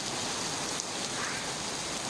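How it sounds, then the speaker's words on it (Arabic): Steady rain falls at night in Al-Qurayyat, Saudi Arabia, a dense, even hiss of drops hitting surfaces with no voices. "أمطار القريات."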